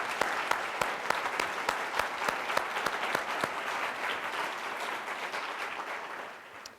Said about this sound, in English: I'd like to give all of our faculty, staff, and nominees another round of applause